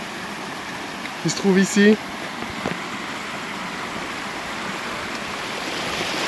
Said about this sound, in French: ce château d'eau, il est alimenté par la petite pompe bélier